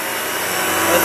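A Kenmore 600 series bagless vacuum cleaner runs loud and close, a steady dense motor roar with a rough rubbing texture as it passes over the floor, rising slightly in level toward the end.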